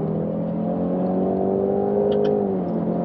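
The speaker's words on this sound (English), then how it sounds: "Listen to that exhaust." A Jaguar F-Type P300 in sports mode accelerates hard, its exhaust giving a steady rising drone close by, with a brief metallic pop near the end.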